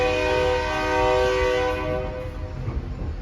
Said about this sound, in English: There's the horn blowing from the diesel